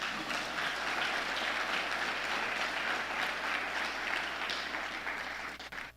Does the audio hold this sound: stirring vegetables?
no